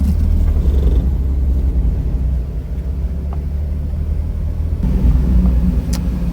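A Smart Roadster pulling away, its low engine rumble steady and close, with a brief lull before the note picks up again near the end.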